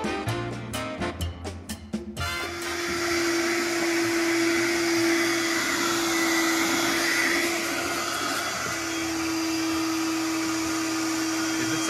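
After a few quick clattering knocks, a vacuum motor starts and runs as a loud, steady whine, pulling suction through an adapter on a 1973 Triumph TR6 cylinder head freshly returned from the machine shop.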